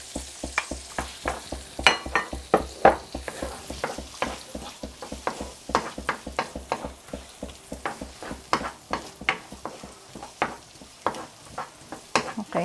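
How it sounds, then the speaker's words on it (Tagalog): Onions sweating in oil and butter in a pan, a soft sizzle under steady rhythmic stirring and scraping strokes, close and repeated throughout. "We can also start sweating our onions."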